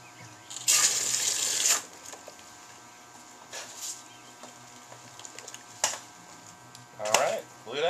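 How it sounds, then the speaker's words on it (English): A brief rush of cool water pours into an all-grain beer mash for about a second, followed by scattered clanks, a few short splashes and a soft knock, with quiet pauses between. "We can add a little bit of cool water."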